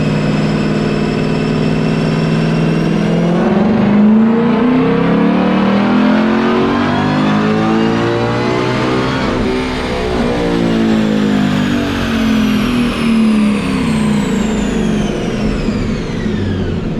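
A 2020 Shelby GT500 Mustang with its air-box lid removed, revving hard on a dyno during a hot back-to-back pull, a loud, sustained engine roar rising and falling in pitch as it climbs through the revs and shifts, with no talk.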